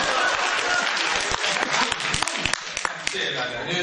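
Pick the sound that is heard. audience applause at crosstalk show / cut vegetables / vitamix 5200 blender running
audience applause at crosstalk show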